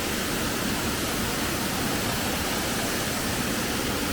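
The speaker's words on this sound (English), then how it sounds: "this waterfall goes all the way to the top" Waterfall pouring hard in heavy rain in Songkhla Province, Thailand, a steady dense broadband roar of falling water with no breaks, loud and close throughout.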